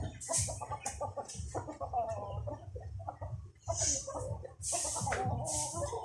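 Chickens clucking and a rooster calling, close by, with people talking in Filipino over the birds throughout.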